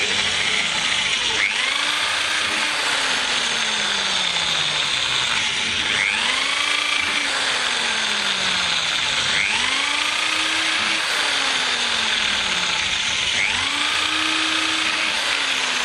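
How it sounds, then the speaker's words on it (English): A drill running at slow speed cuts into an HDPE plastic fuel tank, giving four evenly spaced cycles of rising and falling whine over a steady loud grinding background, with no one talking. "I'm also using quite a slow speed on the drill"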